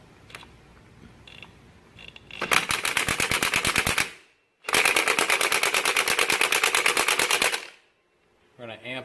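A power tool with a smaller socket fitted, working a stripped oil bypass valve on a Seca 750 motorcycle, hammers loudly in two long rapid bursts separated by a short pause, with a brief start of another burst at the end.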